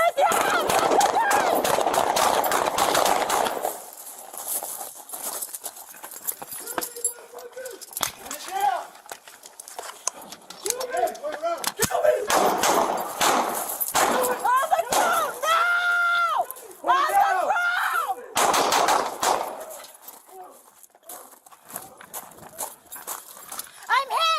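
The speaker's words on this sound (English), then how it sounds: "During the ongoing exchange of gunfire, Valdeviso is wounded and falls to the groun" Bursts of rapid gunfire crackle amid shouting voices, dense at first, then sporadic sharp shots breaking through loud, chaotic yelling.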